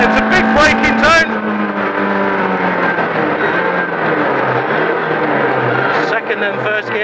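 A rally car on a special stage at Cadwell Park, heard from on board as its engine roars loudly, then drops in pitch and rasps through a heavy braking zone, with a person talking over it.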